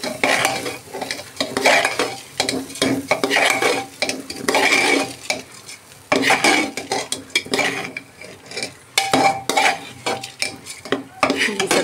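Repeated scraping and clinking of a spoon stirring khichdi ingredients with green chillies in a pressure cooker, with a soft sizzle underneath, steady and close.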